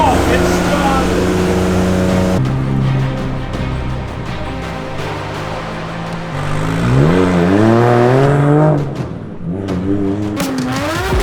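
A Nissan Skyline R32 drift car engine starts and runs loud and close, idling roughly, then revving up and dropping back in a few swells, with a voice shouting over it.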